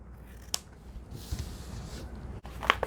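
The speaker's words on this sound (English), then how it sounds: "Snip off the ends of the ribbon if you feel they are too long." Scissors snip off the ends of a ribbon on a party favor pouch, giving two or three quick, soft close-up cuts among faint rustling, with no voices.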